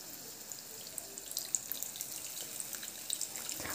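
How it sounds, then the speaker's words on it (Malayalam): Water poured from a cup into a pot of brinjal rasam flavoured with tamarind, a soft, steady trickle and splash with faint drips, quiet and close, with no talking. "ഒരു കപ്പ് വെള്ളം കൂടി ചേർത്ത് കൊടുക്കാം."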